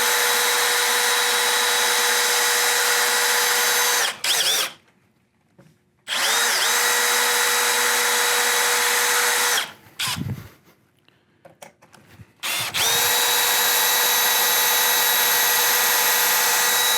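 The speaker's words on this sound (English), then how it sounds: "Take your drill, and then make sure you're very careful drilling through the system itself." A power drill runs through a panoramic door frame system in long, loud, steady whirring bursts, broken by brief pauses filled with light clicks and handling noises, then starting up again.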